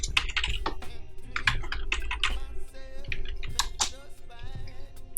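A loop out expression is typed on a computer keyboard in a quick, close run of clicky keystrokes lasting about five seconds, with a faint musical bed underneath.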